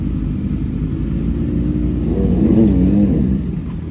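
A motorcycle engine idles with a deep rumble, then revs up briefly and settles back, loud and nearby.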